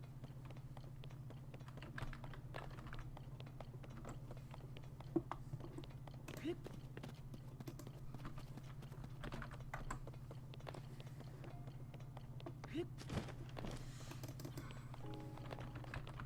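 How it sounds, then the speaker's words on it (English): Quiet typing on a computer keyboard: a continuous patter of light key clicks with a few sharper taps, over a steady low electrical hum and faint murmured voice. "Sorry for all the typing in this one."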